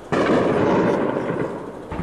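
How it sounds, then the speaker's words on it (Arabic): Artillery shelling at night over Moadamiyeh in the Damascus countryside: a sustained, heavy low rumble from distant bombardment fills the scene, rolling on with no distinct single blasts. "مع ضميت الشام استمرار قصف الشلك على المدينه"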